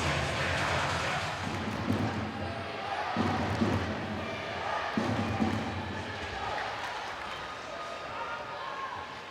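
A large arena crowd at an ice hockey game, Sheffield Steelers against Cardiff Devils, rumbles as a constant wash of noise, with a voice talking over the murmur.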